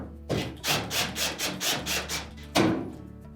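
Screws are driven in to secure a bulkhead on a Whirlpool dryer during a shroud seal replacement, giving a series of rhythmic grinding, rubbing turns with a louder scrape near the end, close and alone.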